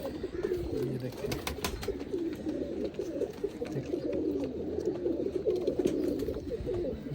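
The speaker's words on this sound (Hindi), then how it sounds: "अब आपको कबूतरी भी चेक कराता हूँ माशाल्लाह, बहुत अच्छी कबूतरी है" Pigeons coo steadily and low, a near, continuous murmur of several birds, with a female pigeon among them, in a loft or coop, sometimes with faint rustles and a brief bright click.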